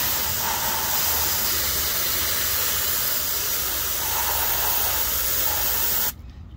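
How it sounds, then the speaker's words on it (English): A continuous loud aerosol hiss of QRC QD electronic parts cleaner sprayed onto an RTX 4090 graphics card runs for about six seconds, then cuts off abruptly. "I'll just spray with my left hand and wing it."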